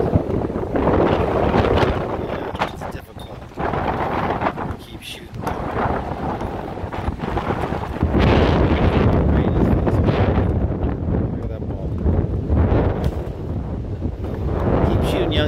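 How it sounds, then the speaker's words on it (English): Strong wind buffeting a microphone outdoors, loud rumbling gusts that rise and fall throughout, with people talking underneath. "shooting in the wind."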